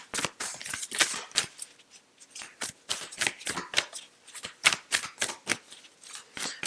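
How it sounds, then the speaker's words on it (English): Yogic path oracle cards are shuffled close up, a quick run of crisp riffling and flicking bursts in an irregular rhythm, with no talking. "So let's get a yogic path card out"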